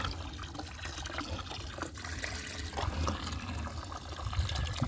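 Water sloshes and bubbles in a pan of gold-bearing clay sample, a steady wet churning with small gurgles and splashes, close and fairly quiet, no talk.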